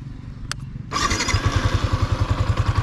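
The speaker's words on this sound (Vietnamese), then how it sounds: "mình sẽ cho các bạn nghe tiếng máy đi ha" Yamaha Exciter 155 VVA motorcycle cranks briefly and fires up, settling straight into a steady, pulsing idle close by.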